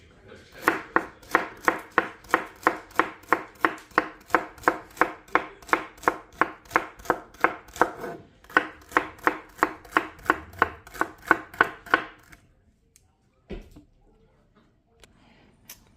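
A knife chops celery on a cutting board in a brisk, even run of roughly thirty close, crisp thuds over twelve seconds, then stops, followed by a couple of faint scattered knocks.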